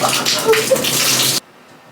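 Hot water running from a shower being fixed: a loud, steady rushing spray with a few brief squeaks, cutting off abruptly after about one and a half seconds.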